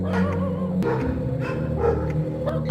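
Dogs bark repeatedly outdoors at night, with short loud woofs and yips in an uneven sequence that keeps going.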